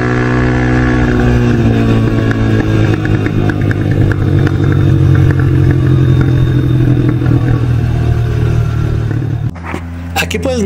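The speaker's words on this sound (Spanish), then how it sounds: "Esa parte me agrada del escape, se escucha muy bien, se escucha agresivo" A Carrera 300 motorcycle engine running loud and close, a steady deep, aggressive exhaust rumble with slight rises in pitch, cutting off abruptly near the end.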